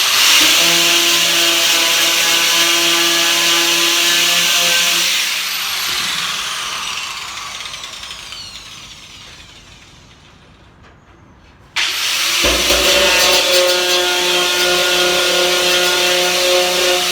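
An angle grinder fitted with a plastic wheel works on the aerial of a classic Mini Clubman, a loud close whining hiss that eases and fades in the middle, then cuts back in at full strength.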